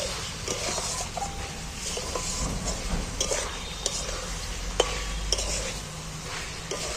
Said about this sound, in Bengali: ডিমটা দিয়ে ভালো করে আরেকবার কষিয়ে নিচ্ছি